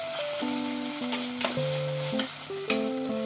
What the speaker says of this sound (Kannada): ಈ ಟೊಮೊಟೊವನ್ನು ಸ್ಮ್ಯಾಶ್ ಆಗೋವರೆಗೂ ಫ್ರೈ ಮಾಡ್ಕೊಳ್ಳೋಣ.